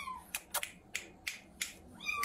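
A cat lets out faint, brief meows at the start and end, separated by a series of soft clicking taps in a quiet setting.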